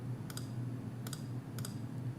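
Computer mouse clicks at a desk, three quick double-click pairs spaced apart over a low steady hum, close and fairly faint with no talking.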